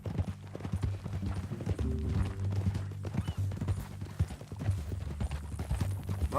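Horse hooves clip-clopping in Red Dead Redemption 2, a steady walking rhythm close by, with a brief whinny-like tone in the middle.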